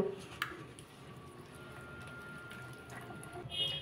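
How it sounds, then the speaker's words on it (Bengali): A little water goes into a spinach and semolina batter for patishapta pita, making a faint, close trickle with soft squishy splashes in a quiet kitchen. "সামান্য একটু জল দিয়ে দেবো।"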